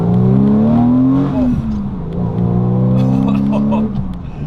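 Hand-built Porsche 911 restomod accelerating on a Swiss mountain pass, its engine note climbing smoothly, dipping at a gear change around a second in, then rising again, loud and close from inside.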